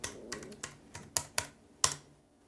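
A password is typed on a computer keyboard at a Zorin OS login, about seven separate key taps at an uneven pace, close and fairly quiet, with no talking.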